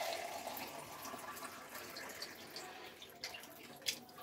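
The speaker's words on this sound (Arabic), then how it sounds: "هنحط الميه بقى واحنا مرتاحين" Water pours into a pot of cooking meat with a soft, continuous splashing and trickling, fairly quiet, with small drips and clinks toward the end and no talking.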